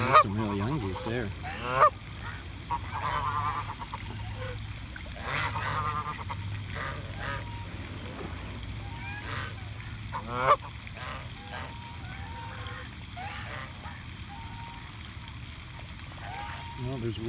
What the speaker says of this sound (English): The rest are geese. Canadian geese.